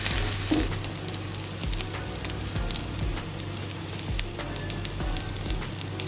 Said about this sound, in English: And we'll continue frying them off.